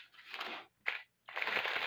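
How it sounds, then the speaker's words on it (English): Scissors cut open a small plastic bag of diamond-painting beads, giving a crinkling crunch of plastic in three close bursts separated by short silences. "Cut out the bag for number 13."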